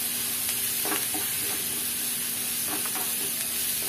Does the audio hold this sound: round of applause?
no